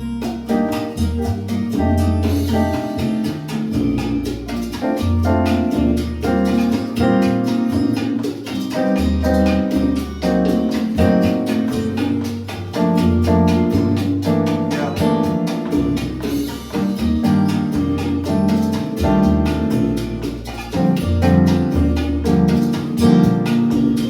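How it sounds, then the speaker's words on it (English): Crisp wooden clave clicks tap out a steady syncopated salsa pattern inside a loud, full band groove with bass and piano. "So I play the clave here."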